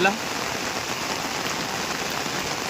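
Steady heavy rain hisses across the whole stretch at an outdoor expo fair with tents, a dense broadband downpour with no pauses, with a faint voice briefly audible at the start.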